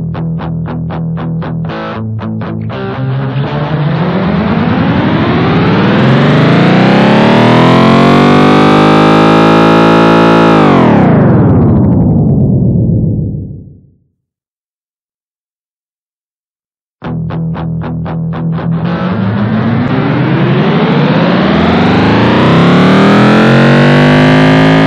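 A twist delay effect on a Boss GT-1000 guitar processor sends a loud, dense guitar signal sweeping steadily upward in pitch until it collapses into a few seconds of silence, then the rising swell begins again.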